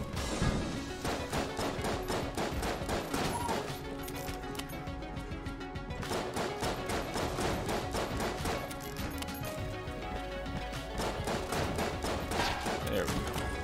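Gunfire in the video game Enter the Gungeon, a dense, continuous rattle of rapid shots and impacts that carries on without pause, loud and close throughout.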